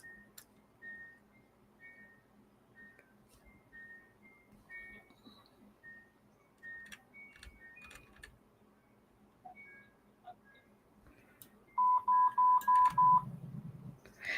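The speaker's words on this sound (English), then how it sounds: "That beeping is my baby monitor" A baby monitor's steady electronic beeping of five quick tones in a row, loud and close, over a quiet room with faint background chirps.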